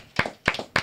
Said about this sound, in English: let's clap for Sarah